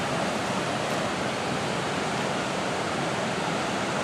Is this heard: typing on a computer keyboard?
no